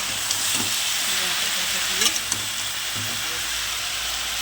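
Fish head chachchori with vegetable stalks fries in a pan with a steady hiss and faint sizzle, occasional stirring clinks, while a voice talks over it.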